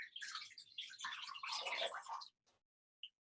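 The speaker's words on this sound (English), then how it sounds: "And then I'm going to cover the rest of it with some cold water." Cold water poured over a chicken frame in a pot for bone broth, a bubbling, gurgling rush lasting about two seconds, then a few faint drips.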